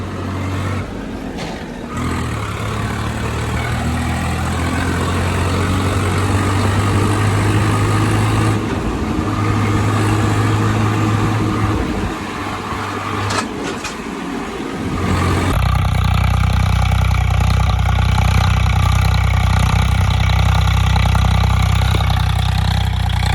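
Tractor engine running steadily in a soybean field, a loud continuous low drone with a slight shift in tone partway through as the load or throttle changes, no talk over it.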